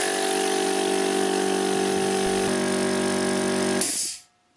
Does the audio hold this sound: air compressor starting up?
yes